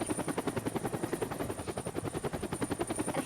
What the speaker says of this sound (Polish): a oni też mają helikopter, policjanci